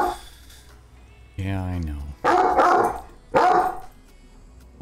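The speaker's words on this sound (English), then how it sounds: "don't stand behind me and bark" A dog barks twice, loud and close, after a drawn-out whining vocalization, with a person's brief spoken reply in between.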